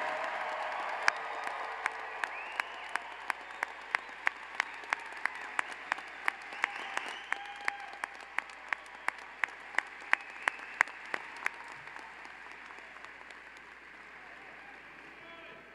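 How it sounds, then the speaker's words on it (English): A large crowd applauds steadily for a long stretch, a dense wash of clapping with sharp individual claps standing out near the microphone. "How about another really loud round of applause for our newest master's degree recipients?"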